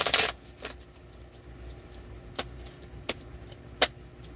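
A riffle of tarot cards being shuffled, then several quiet, separate snaps and slides of cards, close by with no talking.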